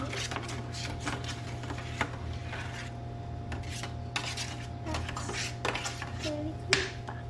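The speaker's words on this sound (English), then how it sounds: "So we're just gonna be stirring it." Ingredients are stirred together in a bowl with quiet, repeated scraping and light clinks from the utensil over a steady background hum, while a person speaks intermittently.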